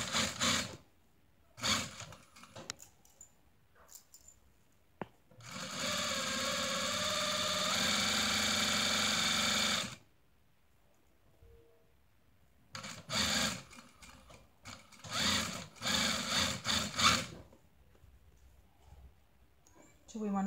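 An overlocker stitches a set-in sleeve on a onesie in close, rapid bursts, one long steady run and several short ones, separated by quiet pauses and someone talking.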